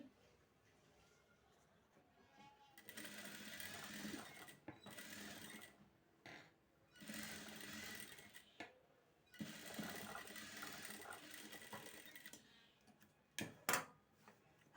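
A sewing machine stitches a traditional Marathi parkar polka petticoat in several quick whirring runs, separated by short pauses and soft clicks, quiet and close.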